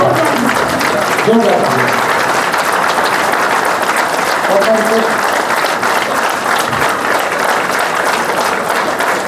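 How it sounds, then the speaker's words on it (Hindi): Loud, sustained applause from a large crowd, steady throughout with a few voices faintly audible beneath the clapping. "हम सबके दिल की जोरदार तालियों से"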